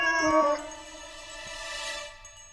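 A cat being offered milk gives a drawn-out, loud meow near the start that fades into a quieter, wavering cry, with no talking over it.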